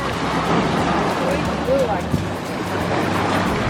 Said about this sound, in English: We're currently on the water taxi now